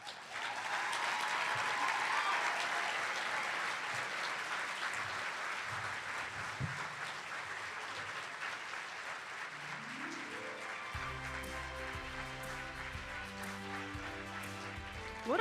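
An audience at a Boys and Girls Club Youth of the Year event gives sustained applause that stays dense and steady, then fades slightly as soft background music comes in.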